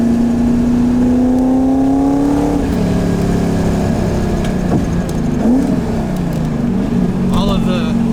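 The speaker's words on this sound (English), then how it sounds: "All of the pops and the downshifts" C5 Corvette engine heard on a mountain road: revs climb, then drop through downshifts with crackling exhaust pops that echo off the surrounding hills, loud and close.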